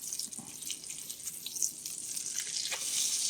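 Seitan cutlets fry in a pan with a soft, hissing sizzle near and fairly quiet. A few brief scrapes sound as they are turned.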